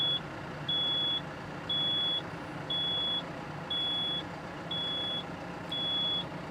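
A hydraulic hopper's alarm beeps as the hopper lowers, a steady high electronic tone pulsing in even, half-second bursts about once a second, six in all, over a low mechanical hum.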